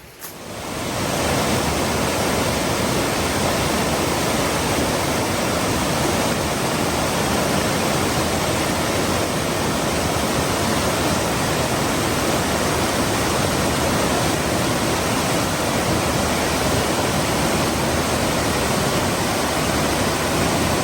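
Rushing river water at an Appalachian Trail crossing near Pierce Pond in Maine, a steady, loud, broadband roar that holds unbroken for the whole stretch with no voices.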